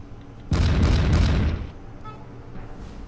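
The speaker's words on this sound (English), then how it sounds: "Alright, opening fire with those cannons." A booming volley of cannon fire in the video game Pike and Shot, one heavy rumbling blast lasting about a second before fading into quieter background sounds.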